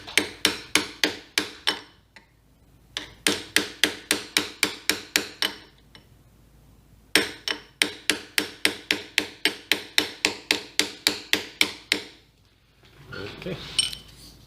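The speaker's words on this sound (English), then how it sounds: "take your punch and hammer and drive the dowel pin back through the bearing" Steel punch struck by a hammer to drive a dowel pin through a dental chair traverse bearing, heard as crisp, evenly paced metallic blows in several bursts with short pauses between them, close and loud.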